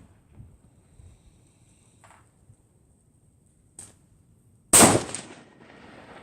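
A single loud rifle shot from a 6.5 Creedmoor load cracks sharply near the end, ringing briefly, after quiet handling noises and a faint earlier click.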